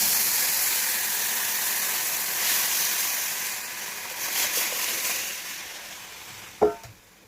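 A tomato liquid mixture is poured slowly into a hot pan of crushed garlic and spices, raising a broad, loud sizzling hiss that swells partway through and ends with a close knock.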